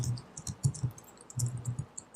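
Keys tapped on a computer keyboard while typing a search, a quiet close run of irregular clicks in two short bursts with a brief pause between, no talking.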